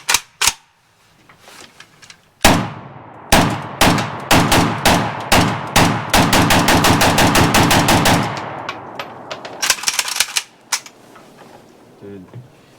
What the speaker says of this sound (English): Dude, really do like the way this gun shoots.